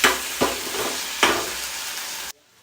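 Baingan (brinjal) curry cooks in a pan on a stove set down on the floor, with a steady close sizzle broken by three sharp spatula scrapes before the sound cuts off abruptly.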